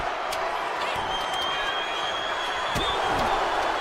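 Crowd in the WWE 2K26 wrestling video game roaring steadily throughout, a dense, loud wash of cheering with a couple of sharp impact thuds near the end.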